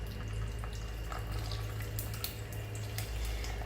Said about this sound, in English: you're pouring the coffee solution into the kit slowly so those granules don't get in